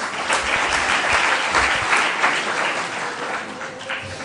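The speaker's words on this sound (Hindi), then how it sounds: "तो उनका ज़ोरदार तालियों के साथ इस्तकबाल करते हैं" An audience welcomes a speaker who passed the IAS exam with loud, continuous applause, dense clapping that holds steady and eases slightly toward the end.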